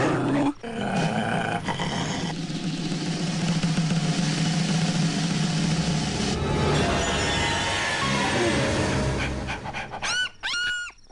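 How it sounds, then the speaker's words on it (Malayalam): A dog in a comedy film pants heavily and growls at close range in a loud, continuous stretch, ending with a few sharp whimpering yelps. "പട്ടിയുടെ കുറയല്ലേ കേട്ടത്?"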